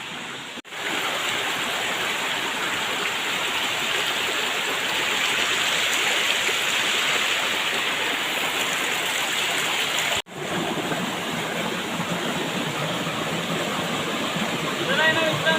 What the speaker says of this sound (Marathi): हे बघा एकदम धबधबा आणि पाणी